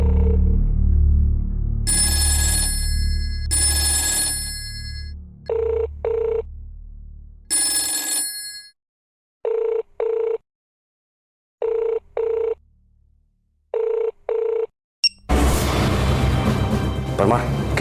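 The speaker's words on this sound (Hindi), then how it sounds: "किसी ने फोन उठाया" A telephone rings in repeated short double trills separated by silences in a Crime Patrol TV drama scene, after an earlier stretch of voices and louder ringing, ending in a burst of noise.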